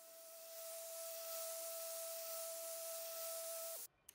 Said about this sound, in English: knock down the epoxy before starting the sanding process